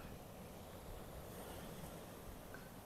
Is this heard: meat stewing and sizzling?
no